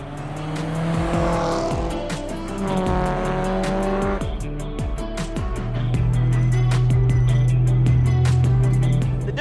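A Mitsubishi EVO 10 drives by with a loud exhaust, the engine revving and rising through gears, followed by a sustained low drone and some tire noise, heard close and loud.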